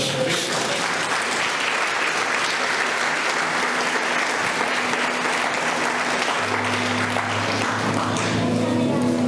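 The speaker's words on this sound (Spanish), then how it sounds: "Denle un aplauso al Señor, amén." A church congregation applauds during a 60th-anniversary service, with dense, steady clapping filling the whole stretch at an even loudness and a low sustained tone underneath from about midway.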